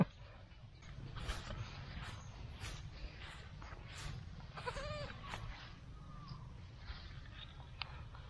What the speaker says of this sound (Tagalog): So ito yung anak nung ano nung kambing natin mga kamangyan.